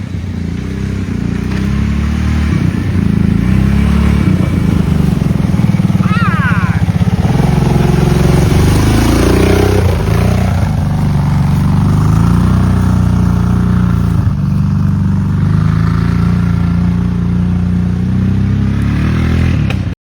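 An ATV engine runs close by, a loud steady idle with uneven rumbling and shifts in pitch, while people talk over it.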